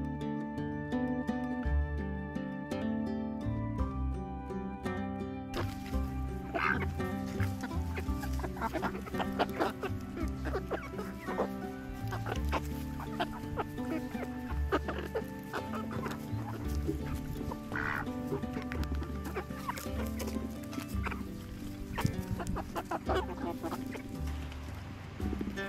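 Backyard chickens peck at a carved jack-o'-lantern pumpkin, clucking steadily close by, with soft tapping and rustling from the pecking.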